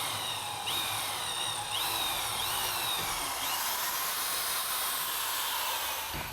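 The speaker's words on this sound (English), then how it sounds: "we'll have to drill some holes for the 2 pieces there" A power drill bores holes while fitting tie-downs inside an enclosed trailer, its steady high whine running throughout with several rising pitch sweeps as the bit speeds up and bites into the material.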